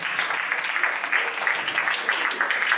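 A church congregation applauding in praise of God at a 40th-day memorial celebration: dense, steady clapping from many hands filling the room, loud and continuous with no voice on top.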